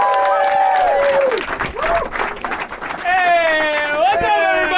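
An audience applauds and cheers a stand-up comedian taking the stage at a comedy club, the steady clapping running through the whole stretch with a voice or tonal sounds carried over it.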